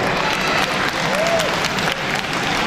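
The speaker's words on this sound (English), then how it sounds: "Let's give all the organizers and volunteers a big round of applause" Steady crowd applause for the organizers and volunteers at a 2013 Tamil community event, a dense wash of clapping that holds loud and even throughout with no break.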